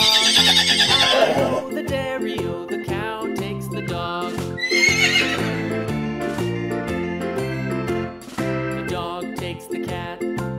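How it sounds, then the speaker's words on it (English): Horse neighing within a toddler song about farm animals, with the whinny rising over steady sung music and instruments that continue throughout. "Horse."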